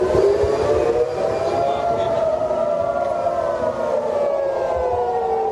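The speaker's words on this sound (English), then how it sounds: "Here's the sound of the air raid sirens in the Israeli capital yesterday as the missile approached." Loud wailing air raid sirens in Jerusalem rise and fall in long overlapping tones as a missile approaches, steady and continuous throughout, echoing across a wide area.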